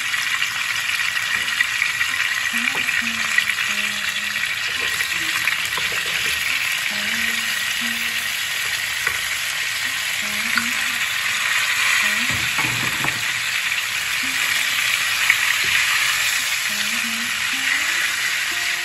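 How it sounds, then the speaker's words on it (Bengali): Cucumber pieces frying in a pan for a Bengali cucumber curry, a loud, continuous close sizzle with stirring scrapes throughout and faint music beneath. "এখন শসাটা একটু ভেজে দিই।"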